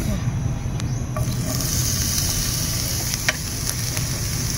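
Onions hit hot oil in a pan and fry with a steady, fairly loud hiss and crackle, joined by a few sharp clinks from a utensil.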